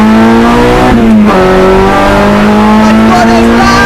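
A DC2 Integra Type R race car with a swapped H22 engine accelerating hard on the road, loud steady engine roar rising in pitch through a gear change, heard from inside the cabin.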